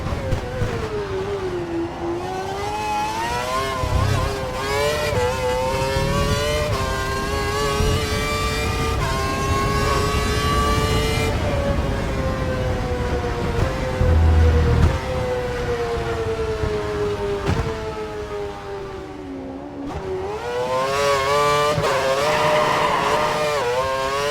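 The Lotus E21, the team's 2013 Formula 1 car, screams through gears in a Codemasters F1 racing game, a loud high-revving engine note rising and dropping with each shift and downshift, continuous and near.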